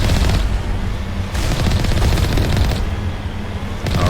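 Vehicle cannons firing in the Mass Effect video game: loud, rapid bursts of heavy gunfire in several sustained volleys with short pauses between, booming close and dense with no talking.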